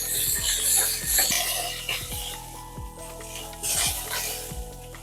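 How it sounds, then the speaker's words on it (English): A pot roast sears in a hot pot, giving a steady close sizzle with repeated sharp scraping knocks as the meat is shifted, and no talking. "I also like to sear the ends a little bit."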